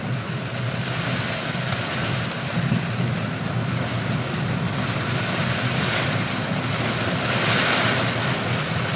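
Strong wind and heavy rain from Typhoon Kristine in Lipa City, Batangas, roar as a continuous, loud broadband wash with gusts that swell and ease, with no voices.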